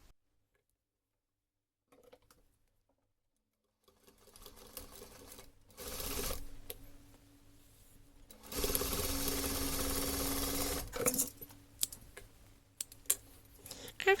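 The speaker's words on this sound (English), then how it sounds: "And now we just need to sew it on sewing machine." A sewing machine stitching the waist of pants runs in short bursts and then a long steady stretch of rapid whirring stitches, close up, with brief pauses and handling clicks between.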